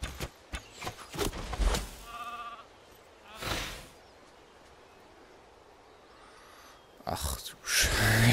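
A sheep in the online fantasy game Dragons Prophet bleats briefly amid sharp combat clicks and thuds, a short wavering cry heard close within loud, choppy game effects.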